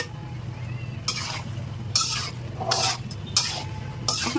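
Sauce stirred and mixed in a pan, several distinct scraping strokes of a spoon against metal at uneven intervals over a quiet low hum, close and clear.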